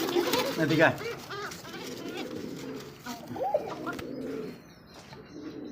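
Pigeons, including a male, coo softly in repeated throaty bursts close by at a pigeon sale, with a person talking over them at times.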